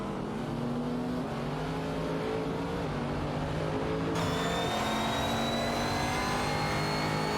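Race cars roar around a track in a racing video game: a continuous, loud engine drone with whining, rising pitch sweeps as several cars accelerate close by, no talk.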